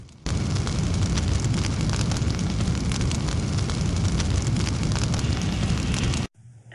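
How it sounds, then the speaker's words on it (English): An explosion rips through a plane in the Full Throttle Remastered adventure game, a loud sustained roaring blast with crackling debris that fills the whole stretch, then cuts off abruptly. "And I think the explosion looks like a giant croissant chasing you out of the plane."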